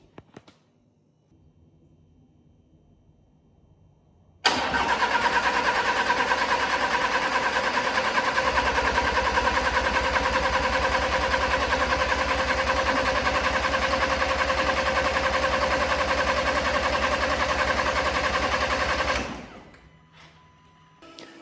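An Audi A4 TFSI engine cranks on the starter with its coil packs disconnected and never fires. It gives a loud, steady, rapid whirring churn for about fifteen seconds after a quiet start, then winds down to stillness.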